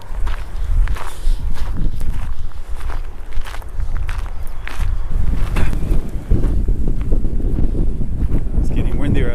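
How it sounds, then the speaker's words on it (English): Wind gusts across a hillside above Victor, Colorado, a loud, steady roar battering the microphone, mixed with footsteps on the climb and occasional voices. "It's getting windier as we go up."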